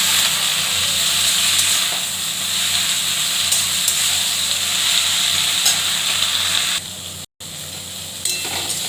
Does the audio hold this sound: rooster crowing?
no